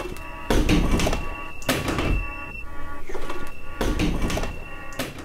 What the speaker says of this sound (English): And a door banging repeatedly.